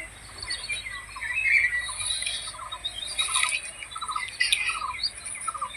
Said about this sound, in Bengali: পাখির আওয়াজ তোমরা নিশ্চয়ই শুনতে পাচ্ছ।